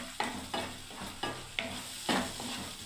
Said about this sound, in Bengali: এবারে আমি নাড়তে থাকবে এবারে